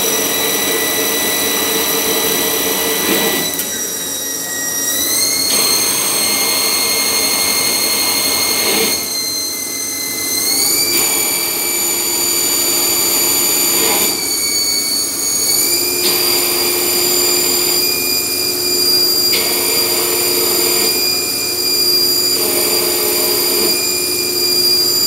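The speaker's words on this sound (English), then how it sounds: "This is, by the way, aluminum that we're cutting." A machine cuts aluminum with a loud, continuous high-pitched whine, its tone shifting in steps as the cut changes, a dense metallic roar running without pause throughout.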